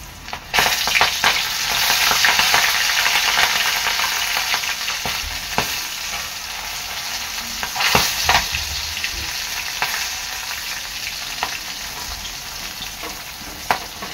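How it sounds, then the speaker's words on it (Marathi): Corn kernels deep-frying in hot oil in a wok, a loud, steady broadband sizzle and crackle that runs the full length with occasional sharper pops and spatters, close up and alone without voices. "आता यामध्ये मी कॉर्न तळते।"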